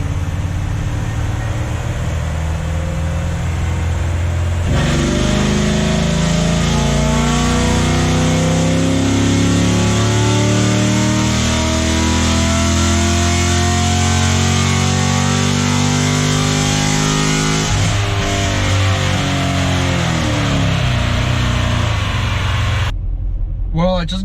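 A C7 Corvette runs on a dyno with its engine held in a steady, loud mechanical roar that swells through a long pull and then drops off near the end, with no one talking over it.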